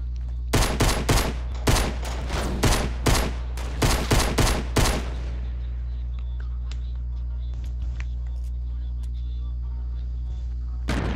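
Fortnite battle royale gunfire: a rapid string of loud, close shots in bursts for about five seconds, then only faint scattered pops under quiet background noise.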